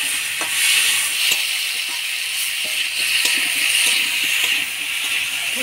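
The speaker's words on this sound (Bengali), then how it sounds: "এবার পেঁপেগুলা দিয়ে দিব, দিয়ে দেবো হলুদ, স্বাদ মতো লবণ, দিয়ে নাড়াচাড়া করে নেব।" Papaya pieces frying in a pan of oil with cumin seeds, bay leaf, turmeric and salt, a steady soft sizzle with faint clicks of stirring throughout and no talk.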